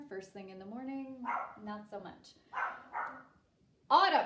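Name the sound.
dogs barking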